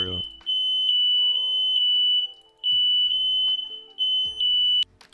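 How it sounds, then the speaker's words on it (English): A smoke detector alarm shrills continuously at a steady high pitch through the whole stretch, loud and close, while a person talks over it in bursts. "My fire alarm."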